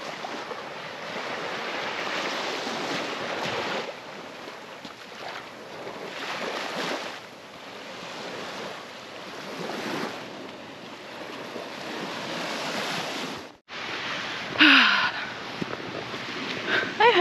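Ocean waves wash ashore at a beach near a lighthouse, a moderately loud, rolling broadband surf that swells and recedes in slow surges, with wind buffeting the microphone and a brief break near the end.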